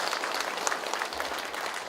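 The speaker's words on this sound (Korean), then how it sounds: "우리 함께 하자는 의미에서 큰 박수 한번 쳐야 되지" Brief burst of crowd applause at a local town policy-sharing meeting in a rural district hall, a busy, even patter of many hands clapping at moderate volume.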